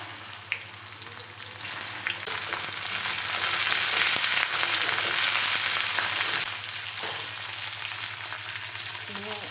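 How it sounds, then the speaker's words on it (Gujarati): Long-cut okra sizzling in hot oil in a pan, a steady loud frying hiss that swells in the middle and eases off toward the end, with no talk over it. "તો હવે આપણું તેલ ગરમ થઈ ગયું છે હવે આપણે એમાં ભીંડાને એડ કરીશું"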